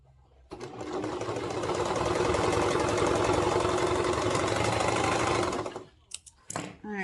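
Sewing machine stitching a toddler's reversible swimsuit, a fast steady whirring run of about five seconds that starts and stops abruptly, followed by a few soft handling clicks.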